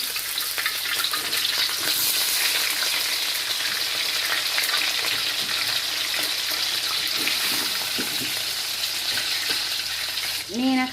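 Pork ribs frying in a pan for a lemongrass stir-fry, a loud, steady, close sizzle with crackling that continues unbroken throughout, plus a brief clatter near the end.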